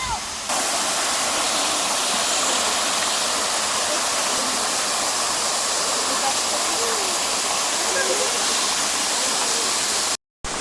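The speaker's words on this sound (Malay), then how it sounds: "air terjun Gunung Tampin" The Gunung Tampin waterfall in a forest reserve roars steadily nearby, a broad, constant rush of falling water that fills the whole scene without pause.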